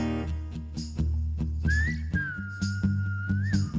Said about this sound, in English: Here's the whistling part.